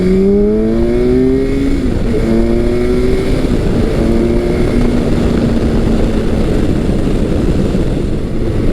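A Kawasaki motorcycle, a vintage KZ1000 or a modern Versys 1000 LT, revs as the throttle opens, its engine and intake note rising in pitch in several climbing pulls. It is loud, close and steady throughout, with no talk.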